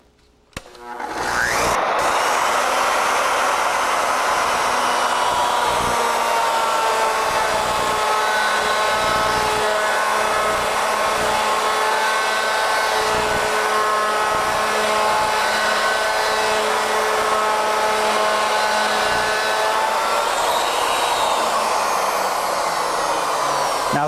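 Legacy ornamental mill router cutting steadily along its lead screw toward the 6-inch mark, a loud continuous high whine with a sustained motor drone that holds evenly throughout after a brief start.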